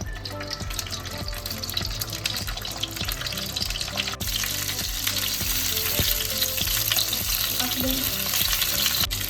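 Raw tomatoes fry in oil in a pan, giving a steady, continuous sizzle with faint stirring under a constant background of music.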